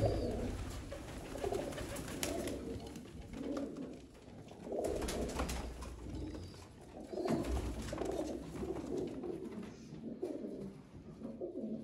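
Red-eyed breeder pigeons coo repeatedly in soft, low, rolling phrases, several birds close by with overlapping calls and no talk.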